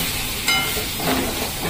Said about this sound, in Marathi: आणि खेकडे चांगले परतून घ्यायचे